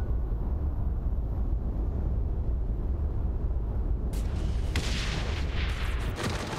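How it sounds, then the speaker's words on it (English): Gunfire in Saints Row The Third rattles through a dense, rumbling din of low booms, with sharper bursts of shots breaking out near the end. "Okay, people are shooting at us."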